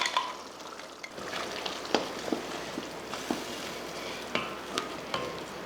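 Thick ground spice paste stirred into chicken in a sizzling pan, with soft scraping strokes and occasional clinks of a spoon against the pot over a steady frying hiss.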